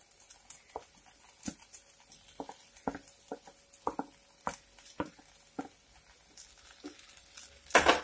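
Sautéed onions going into prawn biryani masala in a pan: a faint sizzle under scattered soft clicks and wet squishing stirs, ending in a brief louder burst.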